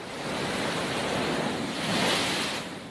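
Heavy ocean waves surge against the Bandra-Worli Sea Link in Mumbai, a loud, continuous roar of surf and wind that swells slightly near the end, with no voices.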